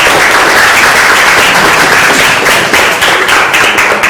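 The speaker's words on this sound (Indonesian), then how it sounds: "tepuk tangan untuk kelompok visual" Loud, steady applause from a classroom crowd fills the space, dense clapping sustained throughout without a break.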